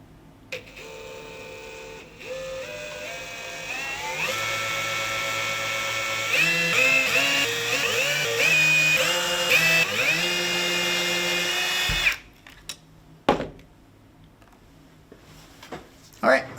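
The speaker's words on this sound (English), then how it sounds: "I'm just going to drill carefully so I don't damage the pickguard." A power drill whirs in rising and falling pitch bursts for about twelve seconds while drilling a Stratocaster kit guitar pickguard, then stops, followed by a few clicks and handling noises.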